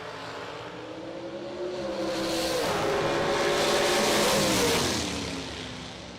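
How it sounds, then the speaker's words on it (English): Drag race cars launch and accelerate down the strip at the Ultimate 64 event, a single engine roar climbing in pitch, swelling loud at mid-pass, then easing away with no voices. "Another great drag race."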